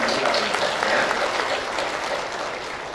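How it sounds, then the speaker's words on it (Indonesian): An audience applauding graduates at a bachelor's degree ceremony of STMIK Mahakarya in 2017; dense, lively clapping that eases off slightly toward the end. "mohon tepuk tangan yang meriah buat para wisudawan dan wisudawan"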